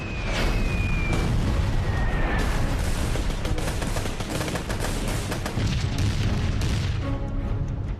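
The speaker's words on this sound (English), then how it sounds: "British commanders unleashed one of the most intense preliminary bombardments of the war." A First World War artillery bombardment as a sound effect: dense, continuous booming explosions and gunfire overlap into a roaring barrage, with a faint whistling shell sound early on, loud throughout.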